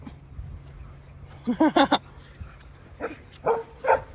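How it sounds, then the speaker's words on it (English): A dog gives short bursts of yips and barks, a quick cluster of four followed by a pause and a few more scattered barks, close and fairly loud over a low background hum. "It's a dog."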